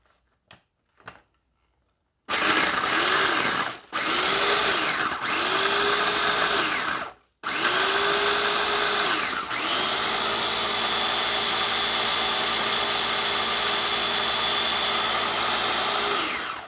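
Mondial Turbo Pratic 300W mini food processor chopping butter and other ingredients, with a few short clicks and then loud motor whirring in several bursts, the pitch shifting as the load changes, ending in one long continuous run.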